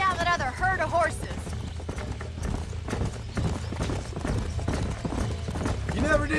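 Horse hooves clip-clopping in the video game Red Dead Redemption, a steady galloping rhythm with a brief whinny near the start and low rumbling game sound underneath.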